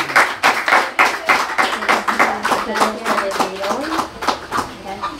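A small group claps rhythmically in quick, even beats for a mother, with voices talking and calling out over the clapping throughout.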